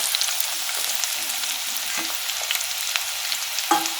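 Grated onion, ginger, chilli and garlic frying in oil for a Gujarati dal tempering, a steady close hiss and crackle with a few sharper spoon scrapes and pops.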